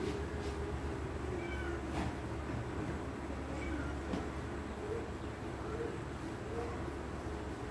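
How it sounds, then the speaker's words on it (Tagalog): A cat gives several short meows, spaced a second or two apart. They are fairly faint against a steady background hum indoors. "Cat. Cat."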